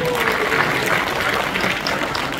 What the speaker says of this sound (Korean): 여러분 뜨거운 박수로 모시겠습니다